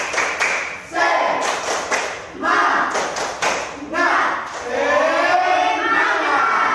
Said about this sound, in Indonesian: Jadi kita tepuk semangat dulu ya untuk kita lebih termotivasi dalam belajar pada pagi hari ini.